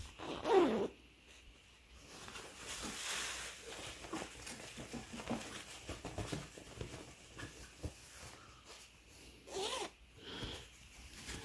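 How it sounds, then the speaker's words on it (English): A zipper on a dust collection bag being pulled open in short rasping bursts, close by, with rustling and handling of fabric between the pulls. "Looks like you just have this zipper here"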